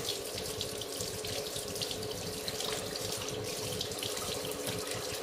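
Running tap water pours steadily over homemade butter being rinsed under the faucet, a loud, even, continuous gush close by with no speech.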